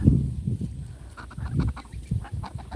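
A five-month-old pet Sebastopol goose gives a run of close, loud honks and squawks in irregular bursts, with no talk.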